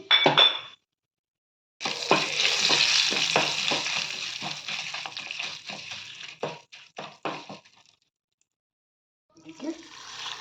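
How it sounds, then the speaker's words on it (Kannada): Asafoetida and curry leaves hit hot oil for a South Indian sambar tempering, giving a loud burst of crackling sizzle with sharp pops and spoon clinks that dies away after several seconds, with faint stirring at the end. "ಹಿಂಗು ಕೂಡ ಆ್ಯಡ್ ಮಾಡ್ಕೊಳ್ತೀನಿ ಜೊತೆಗೆ ಕರ್ಬೇವನ್ನು ಆ್ಯಡ್ ಮಾಡ್ಕೊಳ್ತೀನಿ ಒಗ್ಗರಣೆ ರೆಡಿ ಇದೆ"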